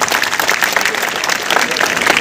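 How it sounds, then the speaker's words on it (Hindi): Dense applause from an audience at a state-level talent search exam prize distribution, continuous and fairly loud throughout with no clear voices over it. "इसके लिए एक बार जोरदार ताली"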